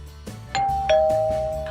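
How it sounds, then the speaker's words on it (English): A doorbell rings in a kitchen during a live morning TV cooking segment, two clear ding-dong chimes close by, each tone sustaining and fading, with no talk over them. "Oh, there's the doorbell."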